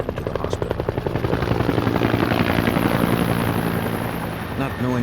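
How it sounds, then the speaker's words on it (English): Helicopter waiting outside to carry a shooting victim to hospital, a loud, close, rhythmic rotor thumping that builds and holds steady for several seconds. "He was rushed outside where a helicopter waited to transport him to the hospital."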